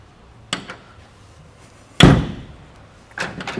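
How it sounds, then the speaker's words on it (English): A pickup truck door swings shut in a hot rod and muscle car shop, giving one loud, solid thud that rings briefly, with lighter clicks and handling sounds before and after. "the advantage of these trucks is when you go to shut the door"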